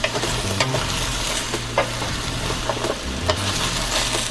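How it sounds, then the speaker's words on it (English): Vegetables sauteing in a pot with coconut oil, garlic and butter, a steady close sizzle broken by occasional stirring scrapes and soft knocks. "I'm gonna add some butter in there to saute everything, brown it a little bit"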